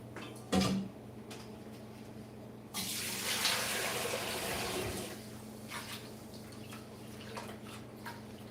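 Tap water runs while fish is washed at a sink, a faint trickle with a brief splash near the start, then a stronger gushing stream for a couple of seconds before easing back to a soft, intermittent flow.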